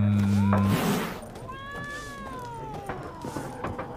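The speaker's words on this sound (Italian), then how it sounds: "Perché mi sta ronfando sto cazzo di gatto del merda?" A cat meows with a long rising and falling call, heard close and clear after a steady low buzz, with soft rustling and faint background sounds.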